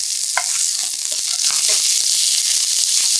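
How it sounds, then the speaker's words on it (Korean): Chicken breast fries in a hot pan with a loud, continuous sizzle and hiss, broken by scattered crackles and light scraping clicks up close. "팬이 달구어지면 닭가슴살을 넣고 2분 정도 구워주세요."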